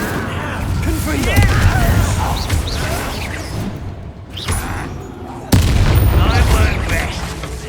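Confringo and Incendio spell blasts in Hogwarts Legacy, fiery bursts and booms crackling close, with a sharp loud blast near the end over spoken voices.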